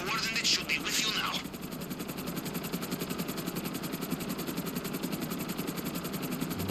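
A helicopter in GTA Online drones steadily with a rhythmic rotor chop throughout, while a voice speaks briefly at the start over the engine.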